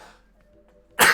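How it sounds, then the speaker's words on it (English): One sharp, loud sneeze bursts out suddenly near the end, close to the microphone, after near silence. "I'm sorry, guys. I had to sneeze."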